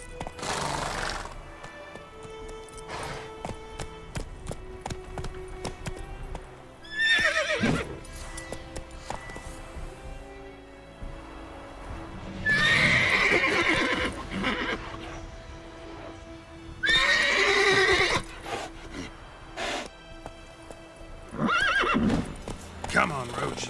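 Roach the horse gallops in The Witcher 3, with a steady run of hoofbeats broken by several loud whinnies and snorts, and a voice speaks briefly in between.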